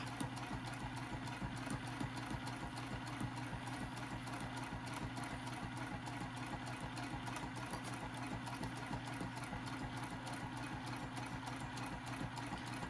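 Sewing machine stitching the seam of a lined box-bottom zipper pouch, a steady, close, continuous motor hum with rapid needle chatter and no talk.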